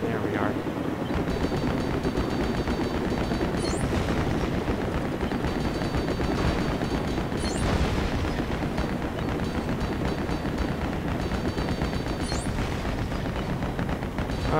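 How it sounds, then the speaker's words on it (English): Lego Batman 2 video game: steady helicopter rotor noise churns beneath rapid bursts of gunfire and scattered booms, continuous and fairly loud across the whole stretch. "Yeah, helicopters."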